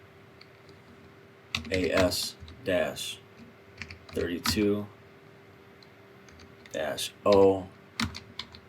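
A command is typed on a computer keyboard in quick bursts of key clicks, close and clear, interleaved with a man's spoken words.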